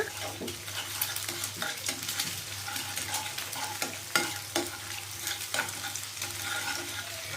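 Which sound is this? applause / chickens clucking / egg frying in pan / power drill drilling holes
egg frying in pan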